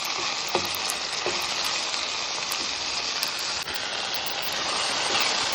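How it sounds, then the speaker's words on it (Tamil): Tomatoes sautéing in a pan for samba rava vegetable upma, a steady, loud, close sizzle and hiss throughout with faint occasional pops and a light clink, no voices. "பாருங்கள், தக்காளி நல்லா வதங்கிடுச்சு."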